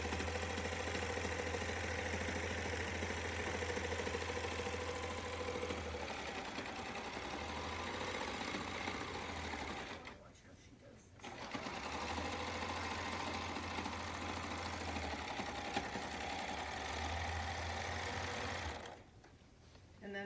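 A sewing machine stitches a pillowcase seam in long, steady runs, fairly quiet, with two brief stops where the fabric is turned.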